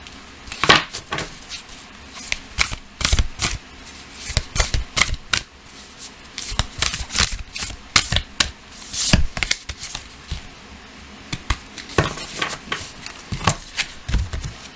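Oracle cards being shuffled by hand, with close, crisp riffling bursts and slaps repeating steadily throughout, no talking.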